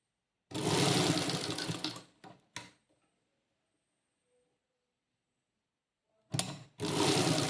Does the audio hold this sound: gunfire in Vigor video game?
no